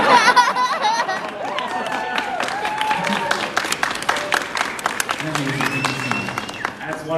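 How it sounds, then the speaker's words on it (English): Panel audience at a voice-actor Q&A breaks into scattered applause mixed with laughter and chatter, uneven claps rising and falling while voices murmur and a speaker talks near the end. "That's one of the few times you get applause for saying that sort of thing."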